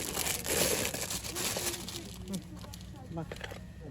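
Close crinkling and rustling of a plastic bag, loud at first then fading into softer handling noises and faint voices.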